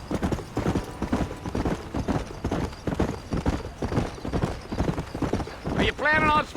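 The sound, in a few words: horse galloping hooves in the video game Red Dead Redemption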